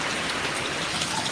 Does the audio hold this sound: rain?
yes